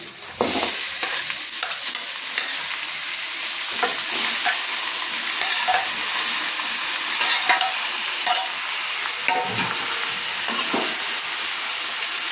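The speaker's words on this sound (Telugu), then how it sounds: "రెడ్ కలర్ వచ్చేంత వరకు ఆనియన్స్ వేయించుకోమని" Onions fry in a pan until reddish, a steady bright sizzle running throughout with occasional stirring scrapes and clinks, close and fairly loud, with no voices.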